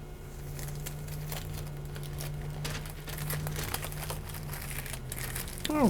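A sheet of pastry being unrolled for smoked salmon pastries, with close, irregular crinkling and light crackling over a low steady hum, growing a bit louder at the end.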